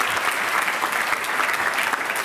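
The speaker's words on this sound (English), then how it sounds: "Another round of applause, please, for both of them." Audience applause at a European Commission event, steady dense clapping from a crowd, continuous and fairly loud throughout with no talk over it.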